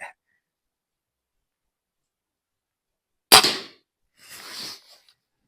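Crosman Prospect air rifle fires a single sharp, loud crack during a plinking session, followed about a second later by a softer, noisy rustle; the shot stands alone with no talk.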